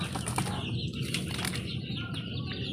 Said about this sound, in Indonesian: Ini itu merpati saya, merpati masih pik, baru 3 bulan.